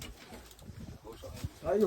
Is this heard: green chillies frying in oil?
no